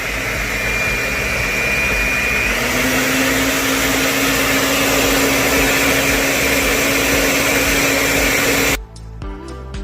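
Food processor blending pesto of olive oil, pine nuts and fresh basil, a loud steady motor whir with a faint pitch shift partway through, close and alone, cutting off abruptly near the end.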